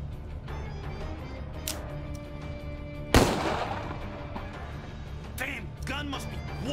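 A single loud, sharp gunshot in Empire of Sin, a 1920s gangster game, cutting through a low, humming background, followed by softer clicks and metallic clatter, with someone talking around it.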